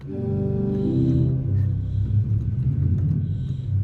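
Deep, sustained chords on a four-manual 65-rank Schoenstein pipe organ with the double open diapason stop added, heavy low-end weight, a rich bass foundation swelling under the fuller registration, played alone without voices.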